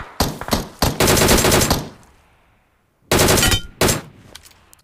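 Loud automatic gunfire in a mobile battle-royale shooter game, two long rattling bursts with a short quiet gap between them and then two more separate bursts, close and sharp with no talking over it.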